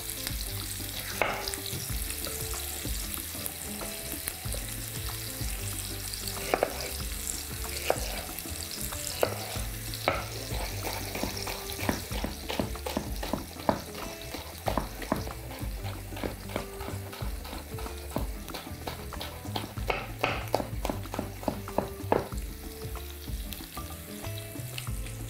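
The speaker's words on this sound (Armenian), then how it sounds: "Մեկ քաղցր պղպեղ մանր կտրատում և ավելացնում ենք սոխերացին" Finely chopped sweet pepper frying with softened onion in a pan, a continuous close sizzle with repeated scraping and stirring of a utensil against the pan.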